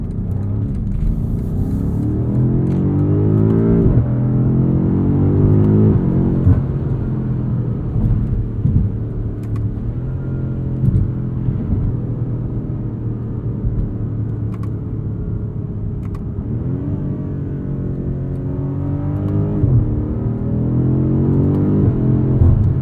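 A 2021 BMW M5 Competition accelerating hard, engine roar rising through the gears in repeated sweeping climbs with brief dips at shifts, loud and close from inside the cabin.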